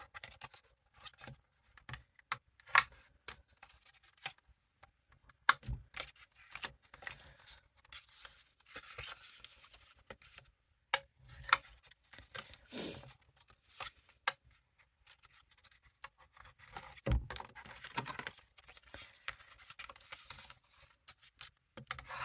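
Bone folder scoring lines into paper for a bear paw treat box: intermittent dry rubbing and scraping strokes, close and fairly quiet, with brief sharp taps between passes and no talking.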